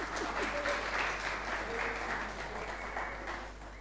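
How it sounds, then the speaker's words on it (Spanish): A church congregation claps for two people, a dense round of applause that swells early and then gradually fades, with a low steady hum beneath and brief voices mixed in. "un aplauso más para los dos"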